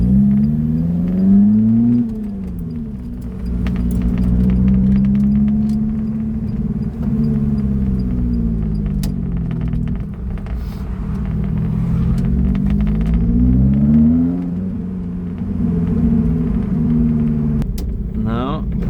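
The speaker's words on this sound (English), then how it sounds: "Oh, the Abarth sounds nice as well." A Fiat Abarth engine revs up and down through several gear changes, pitch climbing and dropping repeatedly, loud and close with a deep rumbling exhaust.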